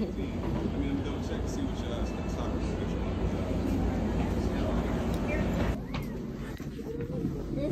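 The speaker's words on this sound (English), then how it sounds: "We're about to get on the train." Interior of an Amtrak train between Raleigh and Durham, North Carolina, with a steady loud rumble and hum throughout, a brief shift near the end, and faint voices underneath.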